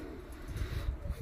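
A Vandebulka racing pigeon coos softly in a loft, a faint, low, throaty murmur over a short stretch with no voices.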